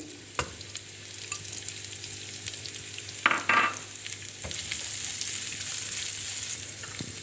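Onions, cabbage and capsicum frying for vegetable spaghetti make a steady, moderate sizzle, with a brief clatter of stirring midway and a few sharp ticks.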